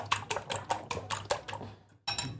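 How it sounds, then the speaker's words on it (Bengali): Eggs being beaten in a bowl for mixed noodles: about seven quick, sharp clinking strokes in an even rhythm, close and fairly soft, with a brief pause before one last tap. "আমরা ডিমটা ফেটে নিচ্ছি এখন।"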